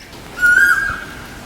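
An Asian koel calls in the morning, a single clear whistled note lasting under half a second, fairly close and loud against quiet background.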